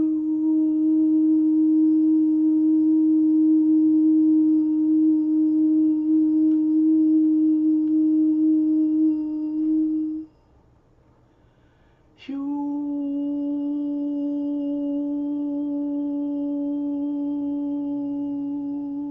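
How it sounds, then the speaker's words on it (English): Steady pure sine tones with faint harmonics play for about ten seconds, drop out briefly, then resume after a short click, sustained and loud with no talk. "I will begin those tones now."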